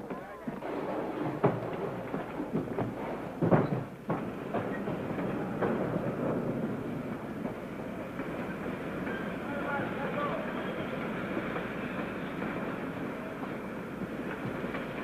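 Rumbling train rolling along the rails with rhythmic clacks and thumps, steady and fairly close, voices faintly mixed in.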